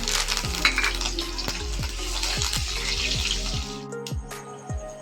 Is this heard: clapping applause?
no